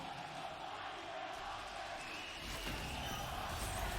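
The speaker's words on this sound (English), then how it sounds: "The crowd is loving this game right now." Large esports arena crowd at a League of Legends match at MSI 2023, a sustained roar of cheering that swells louder toward the end, mixed with commentary-style voices.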